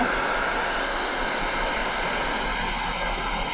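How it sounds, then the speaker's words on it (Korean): Hair dryer blowing, a continuous loud whooshing roar with a low motor hum, steady throughout, no speech, used on corrosion-effect paint. "그래서 좀 드라이기 저도 한번 좀 더 하고"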